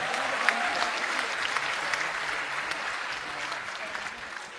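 Steady applause from a crowd at a youth gathering about change, a continuous wash of many hands at moderate, fairly distant level without clear pauses.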